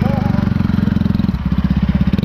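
A Yamaha MT-03 motorcycle engine is held at high revs, its note bouncing in rapid regular pulses as it hits the rev limiter, loud and close.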